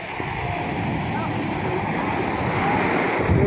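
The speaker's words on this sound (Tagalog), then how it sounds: "Pero, lakas, malakas yung alon." Strong ocean surf roaring in a continuous wash at a fishing net site, with wind buffeting the microphone and a low rumble throughout.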